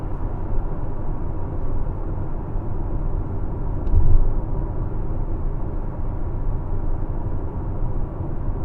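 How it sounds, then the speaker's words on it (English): A Tesla on Autopilot rolls along and slows down, giving a steady low road and engine rumble from inside the cabin, with a brief louder swell midway and no talking. "the vehicle's slowing down"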